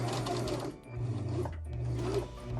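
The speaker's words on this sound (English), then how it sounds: "I'm actually going to hand crank a couple of stitches, push down on my reverse," Home sewing machine stitching fleece for a catnip cat toy, a steady motor hum with a short pause and change of pitch as it backs up in reverse, then running forward again, close and fairly loud with no talk.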